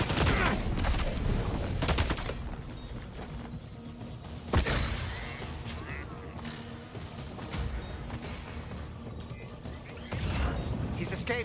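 Repeated bursts of video game gunfire, sharp cracks and rapid volleys in loose clusters, mixed with mechanical clatter and shattering, moderately loud and spread across the clip under occasional voices.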